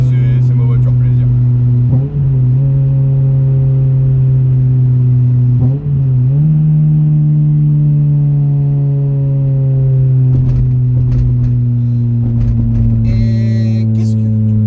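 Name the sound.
Toyota Celica engine revving while driving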